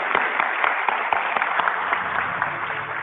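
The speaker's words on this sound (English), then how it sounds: "Can we get a nice round of applause for all our participants?" Audience applause for panel participants at an investment forum session, a steady dense wash of clapping from a large hall lasting the whole stretch at even loudness.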